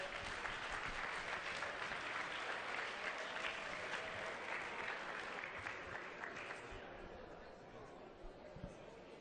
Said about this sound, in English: If you guys want to give them a round of applause there